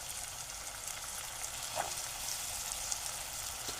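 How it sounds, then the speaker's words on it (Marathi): Chopped vegetables stir-fry in hot tempering oil for a Maharashtrian Shravan-season bhaji, a soft, steady sizzle with faint occasional stirring sounds and no voices. "आणि चांगले परतून घेऊ भाजी"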